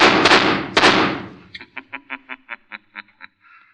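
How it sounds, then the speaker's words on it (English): Recorded gunshots played through a hidden loudspeaker in a house: two heavy, echoing blasts, then a rapid string of about ten thinner, tinny shots in steady rhythm, processed and distorted. "they heard the shots"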